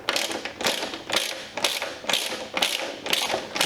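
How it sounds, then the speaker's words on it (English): Ratchet spanner turning a bolt on a 125 bobber motorcycle, a loud close run of rhythmic clicking in about seven even bursts, each a quick rattling ratchet stroke. "This ratchet sounds a bit unhappy."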